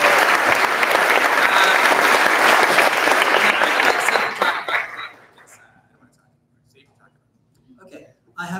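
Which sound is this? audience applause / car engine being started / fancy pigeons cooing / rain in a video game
audience applause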